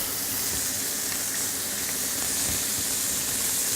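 Sea bream fillet and cuttlefish frying in a pan, a steady, dense sizzle that holds evenly throughout with no voices.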